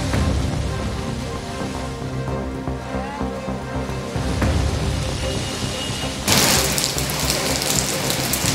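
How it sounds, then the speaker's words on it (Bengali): Heavy rain pours down in Kolkata, a dense, steady hiss throughout with low rumbling beneath, growing louder and brighter toward the end as the downpour intensifies. "ফের বৃষ্টি শুরু হলো কলকাতায়।"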